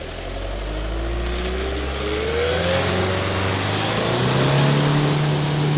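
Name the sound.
4x4 car engine revving hard while reversing through a bog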